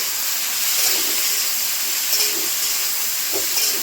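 Bitter gourd and potato slices fry in a pan with salt and turmeric, giving a steady, close, hissing sizzle that holds evenly throughout.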